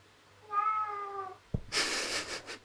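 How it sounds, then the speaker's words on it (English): A cat gives one clear, close meow, then a brief rustle, followed by a second rougher, breathy meow. "Time for the bonus cat."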